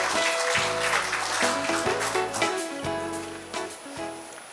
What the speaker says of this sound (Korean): 박수로 환영하여 주시면 감사하겠습니다